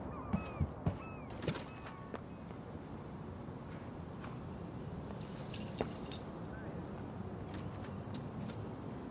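Keys jangling in the Life is Strange video game, a few light metallic clinks and rattles near the start followed by quieter scattered jingles and thumps over a low ambient rumble, with no talking.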